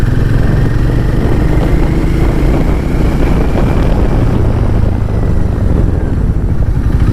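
A Hero Maverick 440 motorcycle engine runs steadily on a test ride, a loud continuous low rumble with wind noise and slight shifts in pitch throughout.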